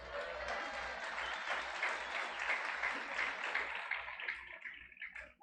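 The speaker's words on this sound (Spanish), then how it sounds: "Den un aplauso." Applause fills a church congregation after a couple's pregnancy is announced, a dense, steady wash of many hands clapping that holds for several seconds, with a low rhythmic thump beneath, then thins and trails off toward the end.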